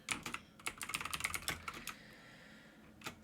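Quick bursts of typing on a computer keyboard, light clicky keystrokes in a fast run followed by a pause and a few more taps, close and quiet.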